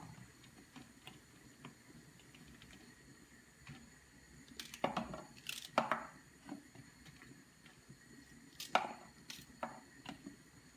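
Knife cutting okra (pindya) on a board, heard as a few sharp, fairly faint chops and taps spread out over a quiet background.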